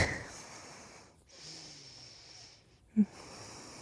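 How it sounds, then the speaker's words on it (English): Slow, deep breathing during a slow yin yoga stretch for hips and low back: long soft exhales with quiet pauses between, close and gentle, ending with a short sharp snort-like breath. "Taking a few more breaths."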